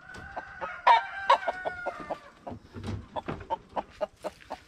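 A rooster crows loudly nearby, followed by a run of short clucks and calls from farm fowl at varied volume, with no talking.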